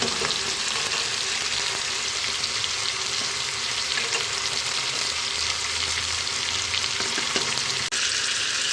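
Chicken sizzling and browning in a hot pan for chicken nihari, a steady loud broadband fry with soft stirring scrapes running throughout.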